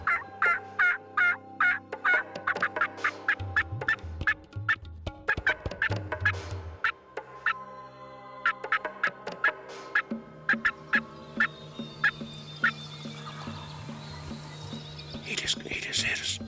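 A wild turkey gobbles on a ridge, several gobbles among a string of sharp clucks and calls, fairly close, with faint quiet voices between them.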